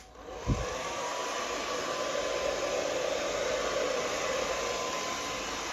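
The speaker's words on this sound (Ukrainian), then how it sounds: "І знову беремо наш фен, вмикаємо." A hair dryer powered by a battery inverter switches on at first speed with a brief thump and then runs with a steady, loud whooshing blow of air that holds constant throughout.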